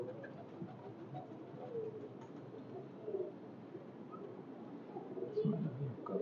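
Pigeons coo softly in low, murmuring calls amid a quiet, busy background of rustling and faint voices.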